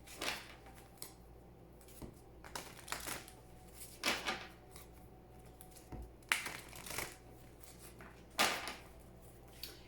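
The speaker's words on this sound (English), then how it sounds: "Please think of your question as I shuffle the cards." Quiet, intermittent papery riffling and soft card slaps as oracle cards are shuffled, in bursts every second or two, close by, with no talking.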